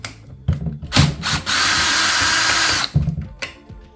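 A power screwdriver unscrews a screw on an Electrolux PerfectCare 800 dryer, giving a few short clicking bursts, then a long steady whir lasting over a second, followed by more brief ratcheting taps.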